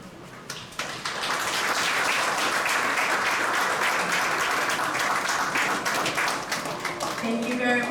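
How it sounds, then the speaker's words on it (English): An audience at a Kosrae PACMED commencement ceremony breaks into sustained applause, a dense, loud wash of many hands clapping that builds quickly and holds for several seconds before a voice begins speaking near the end. "give her a big round of applause"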